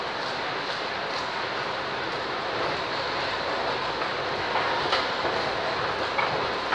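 A steady rail rumble fills Budapest Kelenföld railway station as trains run through, a continuous, fairly loud wash of wheel and carriage noise with occasional faint clicks.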